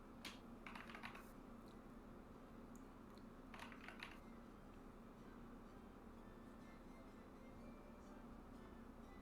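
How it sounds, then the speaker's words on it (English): Typing on a computer keyboard in short, quiet bursts of clicking, set against a low, steady background hum with no voices. "I hear him typing."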